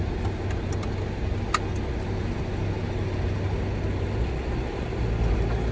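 Steady interior road rumble from a car driving through Montenegro in bad weather, a continuous low drone with even tire and engine noise and one brief faint click, no voices.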